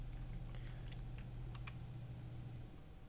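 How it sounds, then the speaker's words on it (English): A few light taps on a computer keyboard, including the spacebar, during drafting software work, faint and sparse over a steady low hum. "And now I'm going to left click spacebar"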